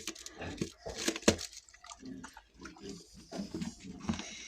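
Pigs grunt and snuffle up close while chewing alfalfa noisily, with wet crunching and munching sounds throughout.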